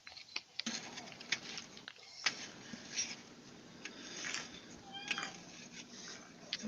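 A pet bird gives soft, cat-like mewing calls indoors, several short faint chirps and meows scattered over a few seconds with small rustling between them.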